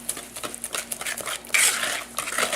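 Utensil stirring coconut pie filling in a bowl with eggs, a run of soft clinking scrapes and taps against the bowl, close and steady, with a louder stretch of mixing toward the end.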